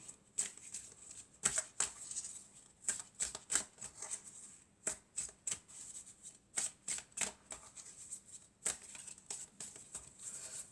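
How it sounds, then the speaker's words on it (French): Oracle cards are shuffled by hand in a steady run of crisp, riffling bursts of paper flutter and snapping, close and fairly quiet, with no voices. "on va prendre quelques cartes de mon oracle"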